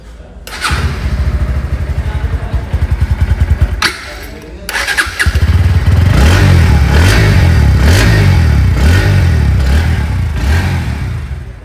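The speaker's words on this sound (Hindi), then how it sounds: "अब आपको सुनाते हैं NS 160 डुअल चैनल ABS का एग्जॉस्ट और इंजन का साउंड" A Bajaj Pulsar NS160 motorcycle with dual-channel ABS starts up close by and idles with a thumping exhaust. The engine cuts briefly, restarts and is revved repeatedly in loud rising and falling surges, with no talk.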